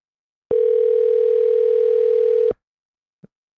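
A steady telephone dial tone rings out loud and unbroken for about two seconds as a call is placed, then cuts off abruptly, leaving a short faint blip afterward.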